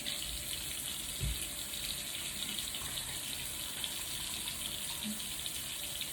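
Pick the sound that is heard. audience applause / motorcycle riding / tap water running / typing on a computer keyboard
tap water running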